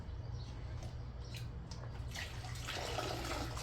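Water pours steadily into a water-purifier bag, the splashing growing fuller and brighter toward the end, with a low hum underneath.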